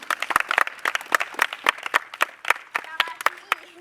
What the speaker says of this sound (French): Alors on applaudit pour Pika Paradis.